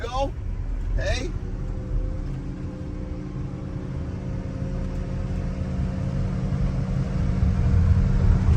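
A tracked snow machine, the Diesel Bros' oversized snow vehicle, drives and pivots in place: a steady low engine and track rumble runs throughout, swelling slightly near the end, with brief whistling squeals early on and a voice talking over it.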